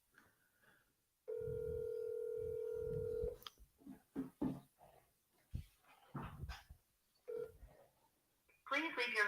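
A phone call rings out while cold calling for real estate wholesaling, with a long steady ringback tone followed by short clicks and tones, then a voice speaking over the line near the end.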